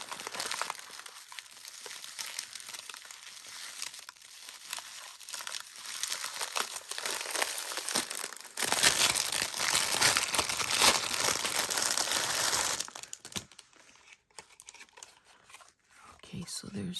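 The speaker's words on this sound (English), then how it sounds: "Sorry for the crinkling, but I don't really want to cut that twine if I don't have to." Mail packaging crinkles and rustles steadily while a happy-mail parcel tied with twine is unboxed, getting louder and denser midway before easing off, with someone talking over it.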